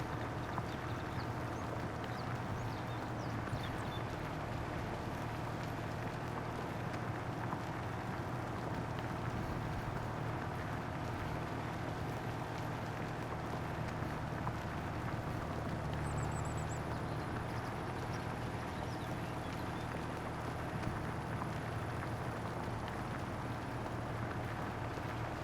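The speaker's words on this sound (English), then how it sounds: "This is gonna be a slow ride, I ain't gonna lie. This tractor does not move fast at all." A slow-moving tractor rumbles steadily throughout, a constant low engine drone with broadband mechanical and road noise, close and unbroken, with no talking.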